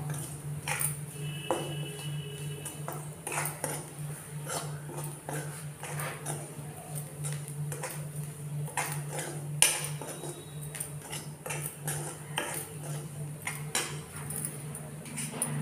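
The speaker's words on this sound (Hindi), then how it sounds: "इसको धीमी धीमी आंच में थोड़ी देर हम भून लेंगे, ताकि मसाला का जो कच्चापन है वो निकल जाए।" Masala for stuffed capsicum stirred and fried in a pan over low heat, with a spoon scraping and clinking against the metal now and then above a steady low kitchen hum, close and fairly quiet, with no talking.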